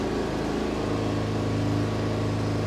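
A salvage-rebuild vehicle's engine idles quietly indoors, a steady, even hum with a soft mechanical drone that holds constant throughout.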